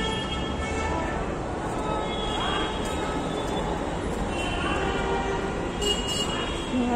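A metro train rumbles loudly and steadily through Nawada metro station, with continuous mechanical roar and faint squeals above it.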